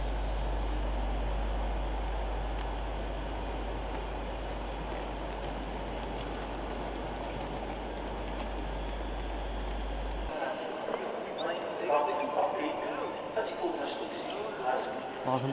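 A ScotRail Class 385 train pulls into Glasgow Central with a steady low rumble and rolling noise beneath a voice, and the rumble cuts out suddenly as it halts, leaving quieter station sounds.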